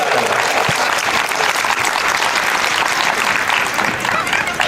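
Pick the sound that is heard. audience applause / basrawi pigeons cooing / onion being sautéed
audience applause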